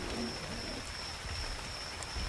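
Steady rain pours in Ark Survival Evolved on the Ragnarok map, a dense, even hiss that fills the whole moment with a faint low rumble beneath it.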